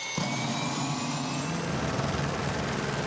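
A Lee County Sheriff's Office helicopter drones loudly and steadily overhead, its engine and rotor noise filling the clip without pause.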